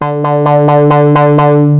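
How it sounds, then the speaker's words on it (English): A gritty, overdriven synth tone from a synthesizer's built-in distortion, pulsing in a quick even rhythm over a sustained low note, harmonically dense and loud. "we do have some built-in distortion,"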